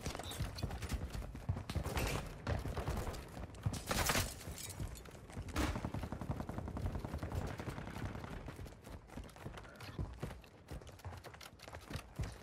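Rapid gunfire from a Call of Duty: Modern Warfare II match clatters in dense, repeated bursts, steady and fairly close, with a couple of louder blasts early on and little talking.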